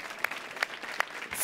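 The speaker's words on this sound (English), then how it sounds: "Wow, a round of applause." A short burst of scattered clapping from a small crowd, a few sharp claps standing out, lasting just over a second.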